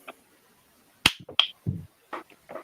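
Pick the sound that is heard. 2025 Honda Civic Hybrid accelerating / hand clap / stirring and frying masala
hand clap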